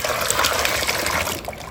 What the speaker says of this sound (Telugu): ఇప్పుడు ఎలా వాటర్ వేయాలో ఇప్పుడు చూపిస్తాను మీకు